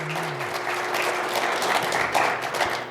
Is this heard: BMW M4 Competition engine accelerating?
no